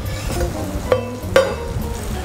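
Garlic and onions sizzle and fry in a pot for a one-pot chicken chasseur, with a steady close crackle broken by two sharp scraping stirs of a utensil against the pot.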